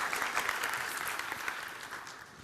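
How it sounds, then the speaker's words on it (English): A pitch event crowd gives a speaker a round of applause, dense steady clapping that fills the room throughout and fades slightly toward the end. "Round of applause for Thomas"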